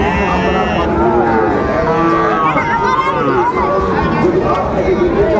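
Sahiwal cattle low and moo amid a busy livestock market in Bhola, their calls rising over a loud, constant crowd of chatter and movement close by.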